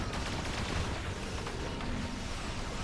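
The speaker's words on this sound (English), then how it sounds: "I hear cannons. That sound amazing. Oh, that must be my pulse phasers." Pulse phasers firing as a sci-fi weapon sound effect, a dense continuous rumble of rapid cannon-like blasts, loud and sustained with no voices.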